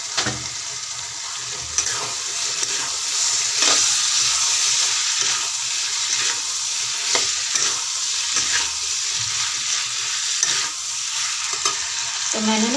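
Boiled chickpeas fry in roasted masala with a loud, steady sizzle. A spoon stirs and scrapes against the pan at irregular intervals, with no voices.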